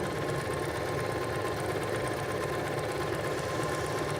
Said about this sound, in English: Then I'll lower the presser foot and just keep on sewing.